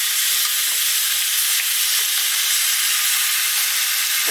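Sirloin steak pan-searing in a hot pan, a steady loud sizzle and hiss that holds constant throughout with no talking.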